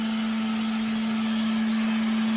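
An old Hoover vacuum cleaner runs at a loud, steady pitch, a close and constant motor hum with no speech.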